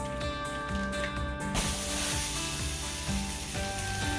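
A whole roll of sausage sizzles in a hot pan on a stove with no flames, a steady loud frying hiss that swells midway and holds, alongside faint background hum.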